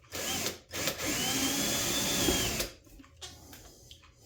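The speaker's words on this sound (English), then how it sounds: "make sure that your support is not directly below where you're drilling the hole" A power drill whirs loudly in two bursts, the longer one grinding steadily as the bit bores into MDF or walnut wood before spinning down.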